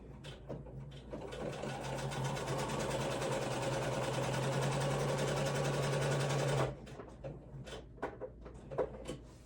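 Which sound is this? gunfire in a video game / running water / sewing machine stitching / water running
sewing machine stitching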